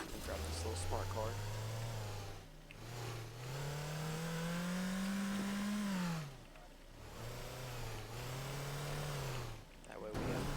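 Engine of a small Smart car in the game Teardown, revving up and down in rising and falling sweeps, broken by a few short drops in sound, with a voice talking over it.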